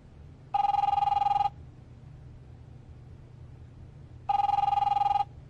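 Two identical telephone ring bursts from The Wolf Among Us video game, each lasting about a second and spaced several seconds apart, loud over a low steady hum.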